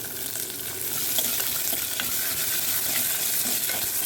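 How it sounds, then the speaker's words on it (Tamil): Steady hissing sizzle of shallots frying in hot oil in a pan, with occasional crackles and stirring scrapes, no talking. "இது நல்லா வறுபடட்டும்"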